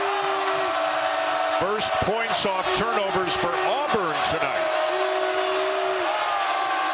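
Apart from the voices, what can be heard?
basketball arena crowd cheering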